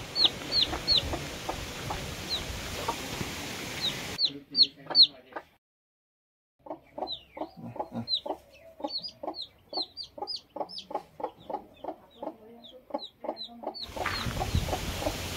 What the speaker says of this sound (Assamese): আমাৰ আজি কুকুৰাজনীয়ে পোৱালি উলিয়ালে।